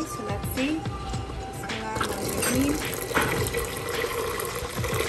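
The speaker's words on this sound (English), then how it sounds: "Adding The water." Water poured into a pot while making Kashmiri tea, a splashing, gurgling fill heard under people talking nearby.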